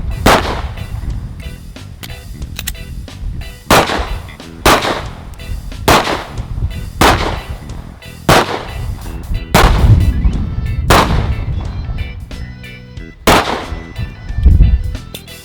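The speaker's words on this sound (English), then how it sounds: "Good shooting, Lord." Handgun shots ring out at a tactical shooting range for defensive handgun training: about a dozen sharp, loud reports in uneven bursts, each with a short ringing tail, and no talking in between.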